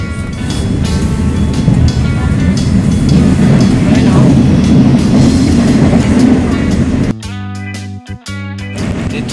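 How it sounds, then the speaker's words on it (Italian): Train running on rails in Milan, a loud, close rumble with rhythmic clickety-clack that continues for several seconds before cutting to a quieter interior with a few brief tones. "Treno preso."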